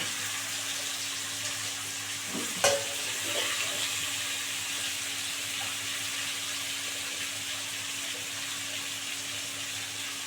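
Potatoes and onions frying together in a pan, a steady broad sizzle that runs throughout with one brief knock near the start.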